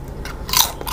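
Someone takes a close, loud crunchy bite of fresh kaffir lime leaves dipped in sauce. A single crisp crackling chew peaks mid-way and then fades, with no speech.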